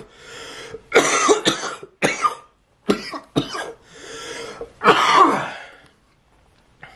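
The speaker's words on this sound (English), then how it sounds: "terrible cough." A person sick with COVID-19 and chest congestion coughs in a series of harsh, close, wet bursts, several separate coughing fits separated by short pauses, with some throat clearing.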